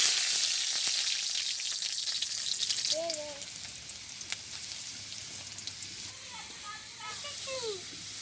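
Oil sizzles and crackles in a pan as bay leaves and whole garlic cloves go in, a steady frying hiss in a village kitchen, with birds chirping faintly in the background.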